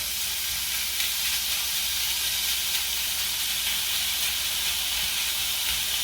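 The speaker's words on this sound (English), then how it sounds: "We're going to give this a good sear." Steak searing in a dry pan gives off a loud, dense, unbroken sizzling hiss, close up and steady for several seconds.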